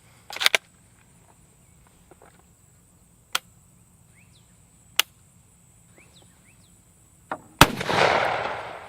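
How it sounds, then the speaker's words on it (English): A carbine rifle fires several sharp single reports spaced apart outdoors, then two rounds in close succession followed by a longer ringing, noisy tail. "That's 2 rounds that went off in a row."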